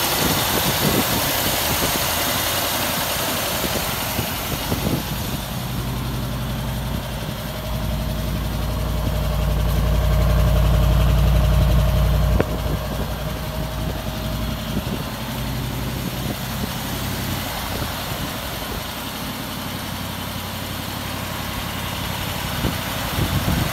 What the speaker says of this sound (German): Der Motor läuft richtig rund, richtig seitenweich, macht keine komischen Geräusche.